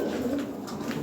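European Lahori Sirazi pigeons, a breeding pair, give low throaty coos close by in a brief, continuous murmur.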